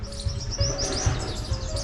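Many sparrows chirp busily and continuously around rows of nest boxes, a bright overlapping chatter of tweets over a steady low rumble.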